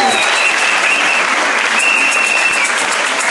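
Loud, continuous applause from a church congregation, a dense even wash of many hands clapping close by for a few seconds without pause.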